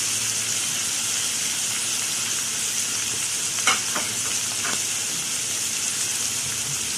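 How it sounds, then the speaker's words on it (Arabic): Meat and onions with spices frying and stirred in a pan, a steady sizzle throughout with a few sharp scraping stirs near the middle, close and moderately loud, no talk. "قلبت اللحمه مع البصل كده مع البهارات اللي حطيناها"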